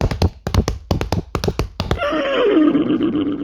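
A voice imitates a galloping horse with rapid rhythmic clicks and taps, then breaks into a loud, wavering whinny.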